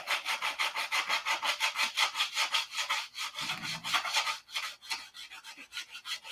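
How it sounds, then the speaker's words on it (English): Steady rhythmic strokes of sandpaper rubbing back and forth on wood, close and even, continuing throughout with no voices. "I don't recommend you sanding open-handed like this"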